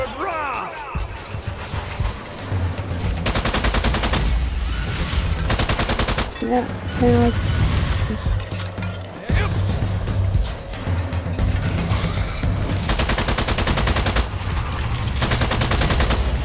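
Gunfire in Strange Brigade horde mode rattles in repeated bursts of rapid shots, loud and dense, with brief pauses between volleys and a few short impacts in the middle.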